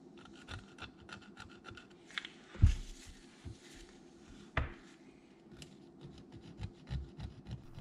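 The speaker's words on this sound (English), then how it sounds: "I'm just filing in the channel where the retaining clip sits, and I'm being very careful not to touch the seal mating surface there." A hand file working the retaining clip channel on a Polaris RZR front differential, producing soft, close rasping strokes in a steady back-and-forth rhythm with a couple of louder scrapes.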